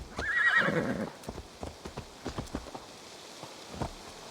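A horse in Assassin's Creed Valhalla lets out a clear, fairly loud whinny, followed by a steady clip-clop of hooves walking at an even pace.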